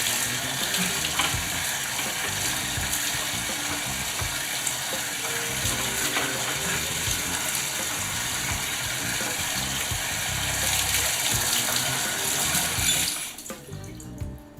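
Water gushes steadily from a repaired bathroom tap, a loud continuous broadband rush that holds for about thirteen seconds before cutting off abruptly near the end, with no talking.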